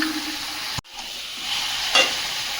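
Chicken being stir-fried in a pan with previously fried potatoes, a steady close sizzle broken by a brief drop and a scrape or stir, then the frying continues loudly.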